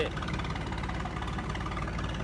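A New Holland 3630 tractor engine runs steadily at a constant low rumble, close and fairly loud, with a continuous even drone and no break.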